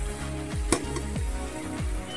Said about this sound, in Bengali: আরও কিছুক্ষণ কষিয়ে নেব, যতক্ষণ কাঁচা গন্ধটা না যাবে আমি কষিয়ে নেব।